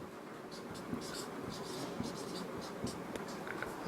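Someone writes on a board during a maths lesson, making scratchy, intermittent strokes with occasional small taps as the writing implement meets the surface.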